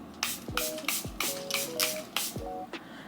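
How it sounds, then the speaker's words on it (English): Charlotte Tilbury setting spray misted onto a face, about six quick sharp hisses in an uneven rhythm, close and fairly loud with faint musical tones underneath. "now I'm gonna just set my face, and this is Charlotte Tilbury setting spray"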